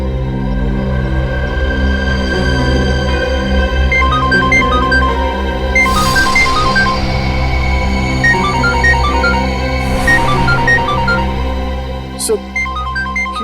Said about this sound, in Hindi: ये उसी का फोन है। फोन उठा और स्पीकर पे बात करो।